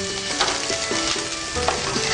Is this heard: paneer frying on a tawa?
yes